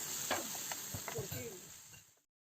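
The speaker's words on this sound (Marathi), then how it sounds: "टोमॅटो नरम होईपर्यंत परतून घ्यायचा आहे" Tomatoes are sautéed in a pan until soft for a Maharashtrian chavalichi usal. A soft, steady sizzle with a few stirring scrapes is heard close by, and it cuts off before the end.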